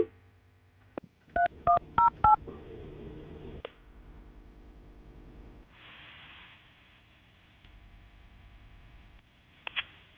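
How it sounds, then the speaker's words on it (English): A quick run of phone keypad tones, about half a dozen beeps, followed by a faint line hum and quiet background. "we're going to call her right now, see if we can get her on the phone"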